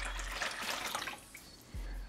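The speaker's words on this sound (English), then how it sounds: "We're going to dump the water back out." Water is dumped out of a jar during a water and automatic transmission fluid mixing test, giving a close splashing pour that runs for about a second and a half, then tapers off.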